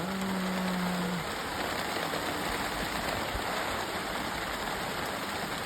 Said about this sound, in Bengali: বিশাল বৃষ্টি পাচ্ছে, এসে গেছে